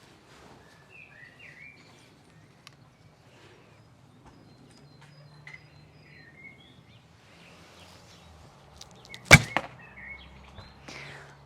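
Arrows loosed from a hybrid Turkish bow of about 38 lb draw at 28 inches, a sharp snap and thud near the nine-second mark after a long quiet stretch with faint birdsong in the background.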